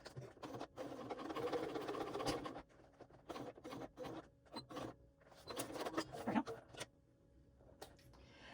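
A sewing machine stitches through the bulky layers of a waist pack in short, irregular bursts of rapid mechanical clatter, broken by brief pauses.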